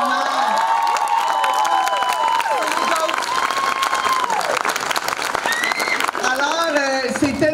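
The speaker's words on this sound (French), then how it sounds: "Et on les applaudit grandement." Loud audience applause mixed with cheering and shouted voices at a secondary school show, continuous and crowded throughout, with high whistles or yells rising over the clapping.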